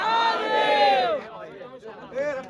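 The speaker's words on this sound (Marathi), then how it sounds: "बघा ही गर्दी." A large crowd of trekkers at Harihar fort raise a loud, sustained chant of many voices together, swelling and then falling off before another surge of group shouting.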